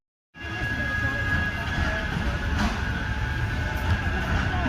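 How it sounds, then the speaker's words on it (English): Tram stop on Market Street in a city centre, a steady rumbling wash of rail vehicle and street noise with a faint tonal whine, moderately loud and continuous, with possible voices mixed in. "it's the tram stop at Market Street, looking up to Piccadilly Gardens."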